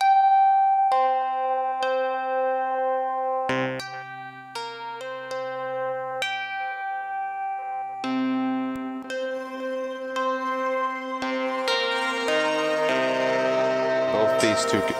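Rings resonator synthesizer module through reverb, playing a sequence of plucked, bell-like resonant notes that ring out and decay, growing denser and brighter toward the end with overlapping tones.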